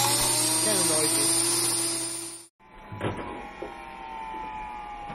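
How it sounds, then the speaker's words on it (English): A grain mill grinds Kamut and Spelt grains with a loud, steady high-pitched motor whine that cuts off abruptly halfway, followed by quieter background noise and a couple of light knocks. "I've put 2 cups of Kamut and 3 cups of Spelt in our grain mill"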